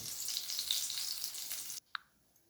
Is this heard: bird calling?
no